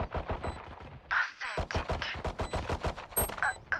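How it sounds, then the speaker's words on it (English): Gunfire in the tactical shooter Valorant during a round with the spike planted, heard as a dense run of quick, sharp shots over game sound. "this is about to be the easiest headshot I've ever seen"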